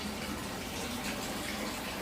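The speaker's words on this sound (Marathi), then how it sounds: "पाण्याचं चालू करून देतो." Steady, close rush of water running from a tap, continuous and even throughout, with nothing else audible.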